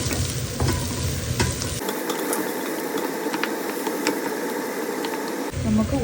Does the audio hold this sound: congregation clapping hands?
no